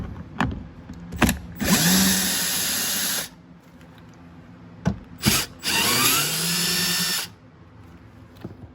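A power driver backs out 10mm bolts from a 2017-2021 Chrysler Pacifica door panel in two sustained bursts of whirring, each lasting over a second, with clicks and taps between, close and loud and no voices.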